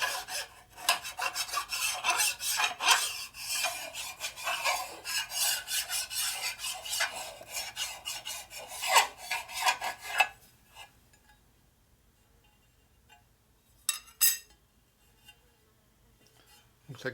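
A flat file rasps against a part from a rebuilt 1946 84ci stroker Harley Knucklehead motor, giving close, loud, rhythmic back-and-forth strokes for about ten seconds, then a quiet stretch with a couple of short scrapes.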